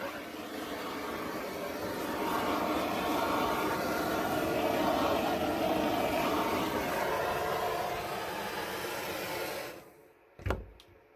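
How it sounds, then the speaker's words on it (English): Propane torch flame played over an acrylic gravity paint pour, a steady close roaring hiss that holds for nearly ten seconds, then cuts off with a brief click. "Okay, so I'm going to torch it a little bit."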